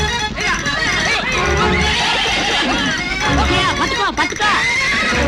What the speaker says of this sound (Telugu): ఈ అడవి గుర్రం, దాన్ని పట్టడం వీళ్ళ తరమా?